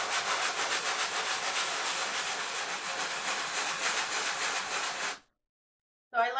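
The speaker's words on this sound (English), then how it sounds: "So go ahead and sand this down, get all of the glitter off" A sanding block rubs glitter off a wooden fish wall decoration in steady, close, continuous scratchy strokes for about five seconds, then stops dead before a brief burst of rubbing resumes.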